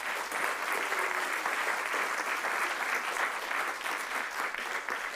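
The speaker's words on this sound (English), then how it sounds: "Let's give it once again for our honorees for this evening a round of applause." A room full of guests at an awards evening applauds the honorees, dense continuous clapping that holds at an even, fairly loud level throughout, with no break or voice on top.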